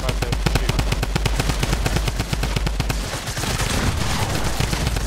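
Rapid automatic gunfire from a Fortnite match on Xbox One rattles loud and near in a dense, evenly spaced burst, then blurs into a rougher mix of shots and game noise.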